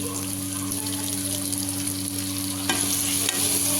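Onions and tomatoes fry together in a pan for a kuruma, sizzling in a constant close hiss as they are stirred, with a low steady hum behind and a few brief scrapes.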